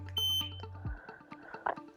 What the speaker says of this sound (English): hold air and power mode until you hear one beep, and then release